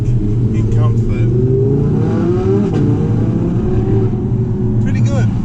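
Audi R8 V10 RWS fitted with a Quicksilver exhaust, revved in comfort mode: a steady, deep V10 idle-like drone with a couple of rising blips, close and continuous, and a voice talking briefly over it.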